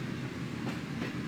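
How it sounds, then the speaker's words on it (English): A CSX Q266 northbound intermodal autorack freight train rolls over a defect detector, giving a steady, rumbling clatter of wheels on rails that is heard from a moderate distance and continues without a break. "train right there that's going over the defect detector."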